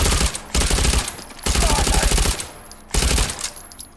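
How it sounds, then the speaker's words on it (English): Suppressed gun firing in the VR shooter H3VR, three loud automatic bursts separated by short pauses, the rapid clatter of the gun's action audible alongside each muffled report. "we can really hear the sound of the gun's mechanics more"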